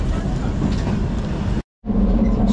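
Steady rumbling interior noise of the Shivalik Deluxe Express narrow-gauge toy train running from Kalka to Shimla, heard from inside the carriage with a brief dropout before the rumble resumes.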